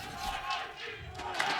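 Live esports arena crowd at the 2022 LEC Spring semifinal between Fnatic and G2, a steady, dense roar of cheering and shouting that holds throughout without clear breaks.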